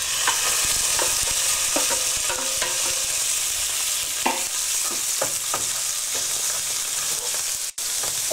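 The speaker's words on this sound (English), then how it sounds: "So now we can add the kidney to cook in those nice flavours." Kidneys sizzling in hot oil in a pan with onion, sausage and garlic while making rognon Turbigo, a steady close frying hiss broken by scraping stirs and clinks throughout.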